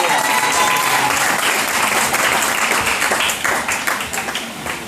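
A church congregation applauding and cheering, dense loud clapping with crowd voices mixed in, close and continuous before tapering slightly toward the end.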